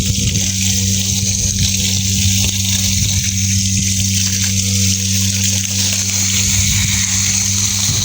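A water pump drives a strong spray over a vegetable garden, giving a constant loud hiss and splash with a steady motor hum underneath and no talking.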